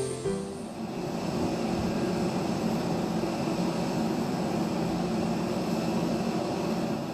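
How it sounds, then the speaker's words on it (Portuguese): A steady, loud aircraft engine roar, broad and continuous throughout, from a Brazilian Air Force Hercules military transport plane landing close by in heavy rain. "o primeiro avião Hércules da Força Aérea Brasileira pousou sob forte chuva"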